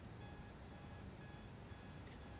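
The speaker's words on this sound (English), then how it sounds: "he forced his hand along the floor and slammed his palm down on the snooze button" An alarm clock beeps steadily in a repeating pulsed pattern, loud and close, with a constant electronic tone that doesn't stop throughout.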